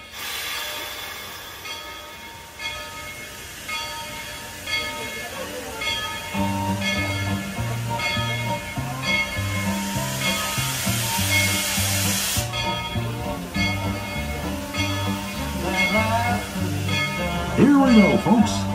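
A steam train on the Tweetsie Railroad pulls away during a railroaders weekend event, with steady rumble and chuffing, a whistle sounding throughout, rising in loudness, and squeals near the end.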